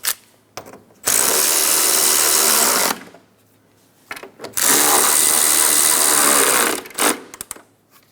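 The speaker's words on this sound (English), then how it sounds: "Snug down the bolts." Power tool driving the 10mm bolts on a 2007-2012 Nissan Altima radiator support, in two loud, sustained whirring runs of about two seconds each, separated by brief ratcheting clicks and handling noise, close with no talking.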